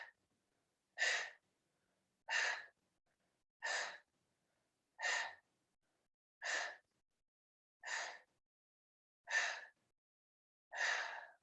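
Rapid forceful breaths during a yoga breath-of-fire exercise, lying with rib cage lifting off the floor: eight evenly spaced bursts of sharp, close nasal exhalation, each about half a second long, separated by short silences.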